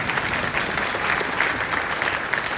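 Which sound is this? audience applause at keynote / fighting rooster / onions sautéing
audience applause at keynote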